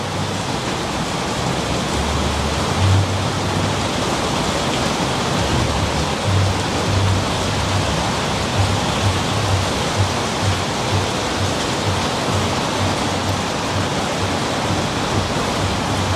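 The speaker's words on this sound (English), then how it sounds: "The rain is getting worse too." Heavy rain pours steadily inside an abandoned building, a dense, even roar of water that holds constant throughout with no talking.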